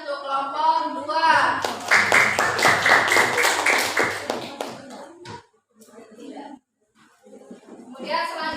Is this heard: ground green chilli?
no